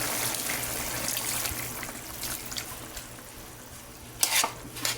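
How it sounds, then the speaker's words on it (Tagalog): Tofu, broccoli and beef tripe simmer in a covered pot, giving a steady bubbling hiss with faint lid rattles and a few brief louder clinks near the end. "Takpan muna natin at hayaan natin kumulo ng kumulo"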